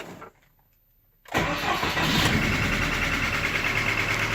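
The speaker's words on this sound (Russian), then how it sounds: "Запускаем двигатель. Слушаем." A 2017 GAZelle Business with an Evotec 2.7 petrol engine starts after a near-silent pause, then settles into a loud, steady running note close by with no talk.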